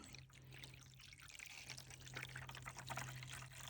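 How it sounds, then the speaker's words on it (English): Water from a rain barrel runs steadily into a birdbath, a soft continuous trickling pour that carries on evenly throughout with no voices. "We are going to fill it up with some water from the rain barrel again"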